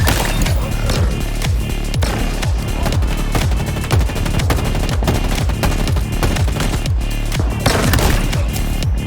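Rapid shock rifle gunfire in the Halo Infinite shooter game, dense rhythmic bursts of loud punchy shots with booms, continuous and close throughout.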